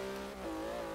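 A Porsche engine revs in Forza Horizon 3, a steady, loud tone whose pitch dips and then climbs again over a brief moment, with no voices.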